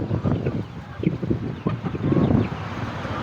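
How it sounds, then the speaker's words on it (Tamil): Giriraja chickens cluck and murmur on a hen farm, a busy cluster of soft calls close by, with wind buffeting the microphone and no one speaking. "உள்ள இருக்கிறது எல்லாமே கிரிராஜா கோழி"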